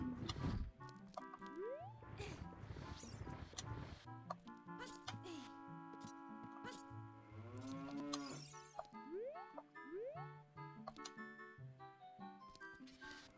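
Cows in Ocarina of Time give repeated synthesized moos with game music and chimes layered over them, while a person talks over the sound.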